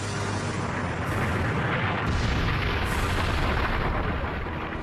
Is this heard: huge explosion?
yes